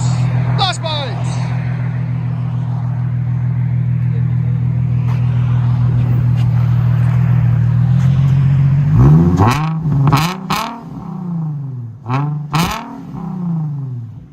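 A Nissan 350Z 3.5L V6 with blast pipes and the muffler cut off idles with a steady low rumble, then revs sharply several times, each blip rising and falling loudly up close.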